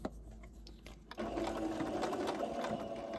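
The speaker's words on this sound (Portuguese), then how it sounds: "Vou passar a costura aqui de meio centímetro primeiro." A sewing machine stitches a half-centimetre seam on a flared dress, starting after a second of quiet handling and then running in a steady, close, even whir.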